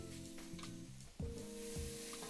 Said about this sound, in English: Now I'll saute these until they're soft